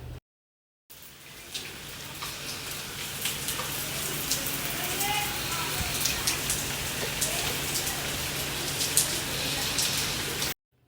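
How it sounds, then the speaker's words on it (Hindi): Heavy rain pours down in a dense, steady hiss with scattered drops and spatters, continuous and close for about ten seconds. "सुबह उठे तो बहुत तेज़ बारिश आ रही थी"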